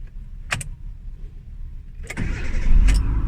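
Car with a hard-starting, long-cranking idle problem and black smoke: two quick clicks, then after a pause the starter cranks briefly and the engine catches, settling into a loud, close, rough running rumble.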